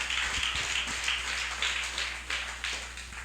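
A church congregation claps in a fairly quick, even rhythm during a Filipino worship service, with a low electrical hum running underneath.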